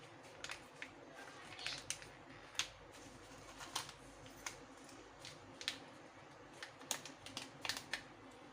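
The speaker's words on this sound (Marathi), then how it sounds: "यात आता हे सॅशे फोडून टाकायचं आहे" A coconut water powder sachet torn open with sharp, irregular crackling clicks and crinkles of plastic packaging, close up and without speech.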